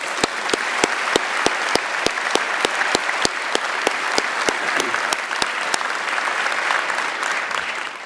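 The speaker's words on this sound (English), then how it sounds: "How about a round of applause for our Master of Ceremonies, Gail Klappa." Audience applause at a university chancellor inauguration ceremony, steady dense clapping from a large crowd, even and sustained, with sharp rhythmic clicks running through it.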